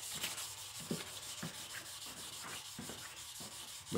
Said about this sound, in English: But you want to kind of wet sand in both directions.